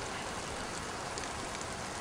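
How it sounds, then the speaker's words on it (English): Steady in-game rain in Mount & Blade Viking Conquest hisses evenly, a dense wash of droplets with no pauses and no voices. "Oh man, we got more rain."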